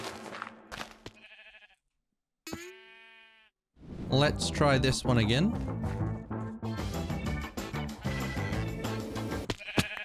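Sheep bleats from the Minecraft video game, several short synthetic calls amid game sounds and music, with someone talking over parts of it.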